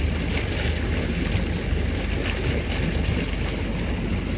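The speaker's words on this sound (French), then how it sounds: "Là, c'est les bulles d'air." Steady, dense rush of air bubbles churning through water in a mini spa bathtub, a continuous broadband roar with constant loudness and no talk over it.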